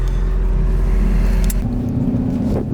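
A manual Chevrolet SS pulls away, its engine a steady close rumble that dips and shifts pitch partway through as it drives off.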